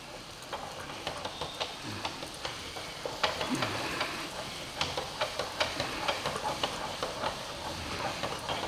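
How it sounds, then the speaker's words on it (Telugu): Masala with mint frying for paneer majestic, a steady sizzle in the pan broken by regular scraping taps of a spoon being stirred, close and even, with no talking. "పుదీనా యాడ్ చేసుకొని ఇలా ఫ్రై చేసుకోండి."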